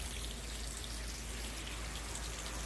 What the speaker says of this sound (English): Okay, I'm just hitting the camera with rain now.